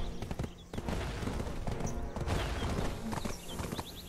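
Horse hooves clip-clop steadily in the online game Black Desert Online, a close, rhythmic trot with a brief whinny-like sound over a busy game backdrop.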